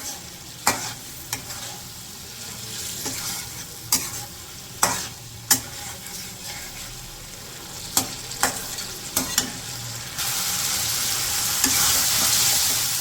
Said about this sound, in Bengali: মাছগুলো দিয়েও ভালো করে কষে নিই।